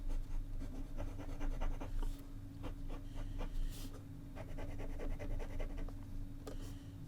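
A Kaweco Supra fountain pen with a stiff, nail-like nib writing on paper, a faint close scratching with quick repeated strokes and short pauses between letters.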